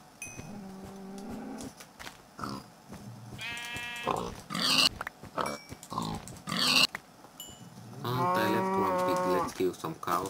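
Cows mooing in the video game Minecraft, several drawn-out moos overlapping with other farm animal calls, fairly loud and close, with gaps of quieter game noise between them.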